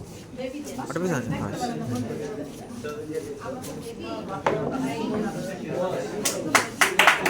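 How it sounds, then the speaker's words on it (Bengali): Speech dominates at an award ceremony honouring a fifth-place team, with scattered claps beneath it and a short, louder flurry of audience clapping near the end. "হাততালি দিই।"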